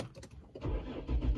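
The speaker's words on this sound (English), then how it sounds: "So let's start this car" A car engine cranks and catches, then rumbles briefly. It is quiet and short, with no talk.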